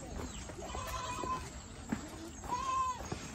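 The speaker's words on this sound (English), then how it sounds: "So many goats." Goats bleat a couple of times in wavering, nasal cries over a busy outdoor background of crowd and street noise at a village market in Ethiopia.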